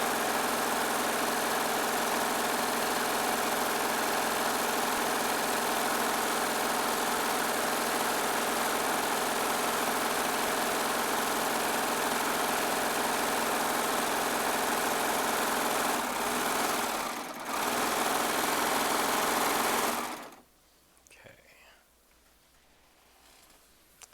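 A Baby Lock serger runs at speed while stitching quilting fabric strips for a jelly roll quilt top. It gives a steady, close mechanical whir for about twenty seconds, then cuts off abruptly into a quiet room.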